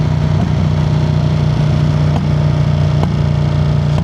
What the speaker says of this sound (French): la faire ronronner comme ça c'est hyper agréable en ville